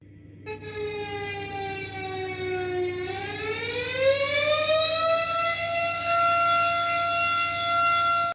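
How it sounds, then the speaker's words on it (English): A loud wailing civil-defense-style alarm siren holds a steady tone, dips, then climbs in a smooth upward sweep and sustains a high, even wail, with no voices over it. "let us listen to the sound of a faux alarm"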